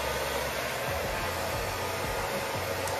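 A heat cap hair dryer running for deep conditioning gives a steady, even whooshing hum with a low motor rumble, close by and constant throughout, with no voices.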